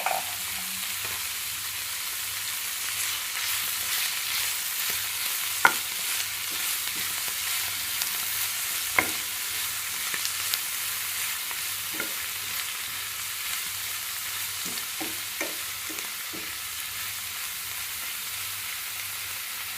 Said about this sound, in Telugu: ఇప్పుడు మంచిగా కలుపుకుందాం దీంట్లో కొంచెం వన్ టేబుల్ స్పూన్ సాల్ట్ వేసుకొని మంచిగా కలుపుకుందాం